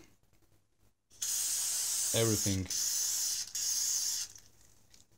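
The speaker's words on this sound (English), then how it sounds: "now I spray" A continuous aerosol spray of lubricant onto engine parts hisses in three long bursts with brief gaps, close by, and a short spoken word cuts in over it.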